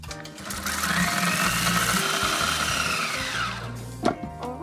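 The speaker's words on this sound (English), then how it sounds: "Put that in the blender." A blender blitzing dates and espresso into a smooth paste, a steady loud motor whir with grinding texture running throughout, with a brief clunk near the end.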